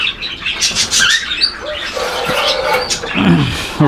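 Lotan pigeons flutter and chirp close by in a busy cluster, with wing flaps and soft cooing sounds mixing together in a cramped space with newly hatched chicks.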